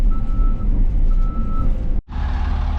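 A reversing dump truck on a dirt road project sounds regular backup beeps over a deep diesel engine rumble. A brief cut follows, then the truck's engine noise resumes, loud and close.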